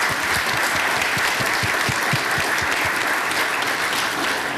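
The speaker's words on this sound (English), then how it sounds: "If you could please give them a round of applause." An indoor audience at a public meeting claps together in dense, steady applause, loud and close, holding even for several seconds.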